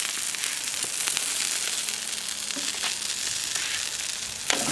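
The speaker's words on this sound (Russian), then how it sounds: "Рыбка здесь закипает" Steady close sizzling of herring frying in oil with scattered pops and crackles, continuous throughout, with a sharper clatter near the end.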